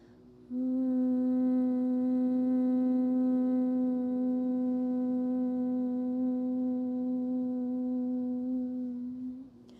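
One long, steady hum from a human voice, held on a single low pitch for roughly nine seconds during a yoga breathing exercise, starting just after a short silence and fading slightly at the end.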